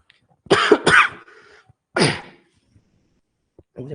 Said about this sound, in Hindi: पिछले 4-5 दिनों से खांसी हो रही है